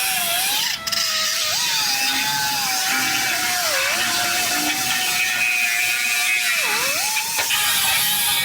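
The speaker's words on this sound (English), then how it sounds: "I'm just gonna cut this cross member in half and get this out of the way" A power saw, probably a reciprocating or cutoff type, cuts through a Jeep frame cross member in a steady, loud whine. The pitch dips briefly under load a few times, and no one speaks.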